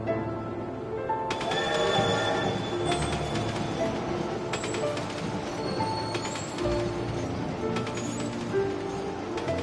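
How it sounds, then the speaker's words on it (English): A magical train from the Kingdom Hearts 2 video game rolls steadily through a cutscene, with a continuous rumbling ride, clattering and faint chime-like tones layered over it throughout. "Magical train into space."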